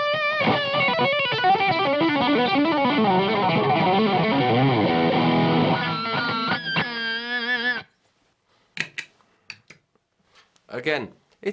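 Distorted electric guitar through a Marshall Code 50 modelling amp's preamp with cab simulation and the power amp switched off, played loud for about eight seconds, then stopping with a few short bursts of noise.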